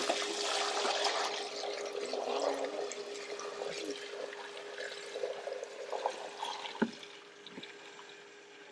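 Liquid sloshes and pours from a hand pump aboard a sailboat, a continuous watery gurgle with splashes and a brief sharp knock near the end.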